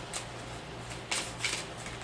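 Tarot cards shuffled by hand, a few brief close riffling bursts over a quiet background hum.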